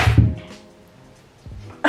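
A single short, sharp sneeze bursts out at the start, followed by quiet, then another abrupt breathy sound near the end.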